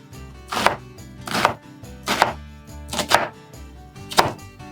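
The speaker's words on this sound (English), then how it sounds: "And I'm going to cut that into ribbons." A knife slices through a head of cabbage, cutting it into ribbons on a board in five evenly spaced, crisp chops with short pauses between, close and clear with no talking.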